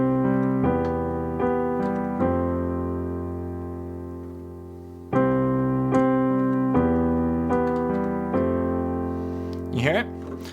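A piano plays sustained chords through the verse of a song from Barbie, with G voiced on top, each chord struck and left ringing. A brief voice breaks in near the end.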